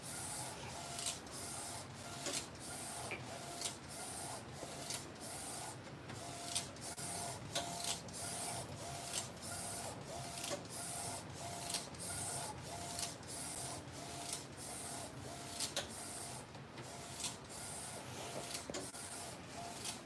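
A direct-to-film transfer printer runs continuously, its print head sweeping back and forth in a steady rhythm of regular whirring passes with mechanical hum beneath, close and dominant with no talk.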